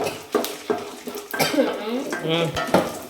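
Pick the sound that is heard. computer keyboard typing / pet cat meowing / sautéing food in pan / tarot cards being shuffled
sautéing food in pan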